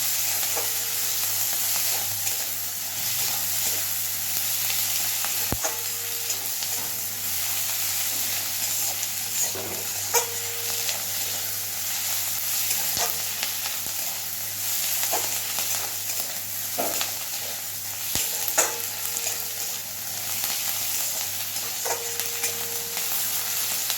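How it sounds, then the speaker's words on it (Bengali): Fish fries lightly in a pan for a thin Bengali fish curry, giving a steady close sizzle and hiss broken by occasional sharp clicks of stirring, with no talk. "মাছটাকে একটু হালকা ভাজা করে নেব।"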